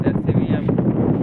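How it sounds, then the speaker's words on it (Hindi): Strong wind gusts roar steadily across the microphone outdoors in a sunny village, blowing dust around, with a loud continuous rumble throughout. "अब यही दिखा रहे थे कितना हवा चल रहा, तो कितना धूल उड़ रहा"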